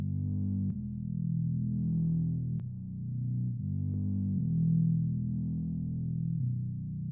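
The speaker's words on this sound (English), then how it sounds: "another preset on Omnisphere in the Trillion expansion called the Growing Taurus Subs" A sub bass from the Omnisphere Trillion expansion preset Growing Taurus Subs, used in a recreation of a song: a loud, deep sustained synth tone gliding through overlapping notes, with soft clicks at each change.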